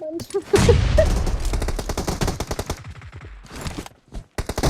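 Rapid automatic gunfire from the mobile battle royale game PUBG Mobile rattles loudly in dense bursts, with a brief gap before more shots and faint voices underneath.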